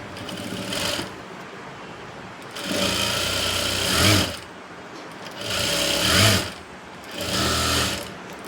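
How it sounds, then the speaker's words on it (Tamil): A sewing machine stitches lace onto a blouse in four loud bursts of running, each a few seconds long, broken by short pauses of lower background noise. "ரெண்டு பக்கம் தச்சு முடித்தாச்சு"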